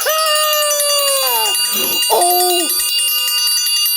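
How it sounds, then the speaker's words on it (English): A bell rings with bright sustained tones, a clear opening strike fading out, then a second shorter ring, loud and close, with a brief exclamation from a voice in between. "I'm ringing the bell."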